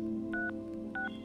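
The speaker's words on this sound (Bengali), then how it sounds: "চোখে আসা জলটা মুছে একটা নম্বরে কল করলো সে" Two short touch-tone beeps from a telephone keypad being dialed, close and clear over a low steady background hum.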